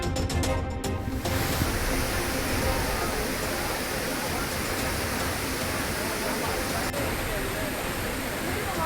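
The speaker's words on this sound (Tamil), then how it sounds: "ஆர்ப்பரித்து கொட்டும் அருவியில் குளித்து மகிழ்ச்சி." A roaring waterfall at Courtallam where tourists bathe, a loud, dense, continuous rush of falling water filling the whole clip.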